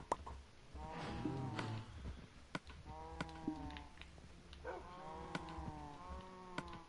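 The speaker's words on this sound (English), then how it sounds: "Let's feed the cows again." Cattle lowing in Minecraft on PS4, several drawn-out harmonic moos repeating at a moderate level over a steady low game background, with faint clicking between calls.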